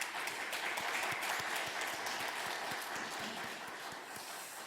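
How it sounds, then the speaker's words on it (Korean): A church congregation at a Wednesday worship service applauds in welcome, a steady wash of many hands clapping that holds for several seconds at moderate distance and fades slightly toward the end. "환영하는 박수 한번 하도록 하겠습니다"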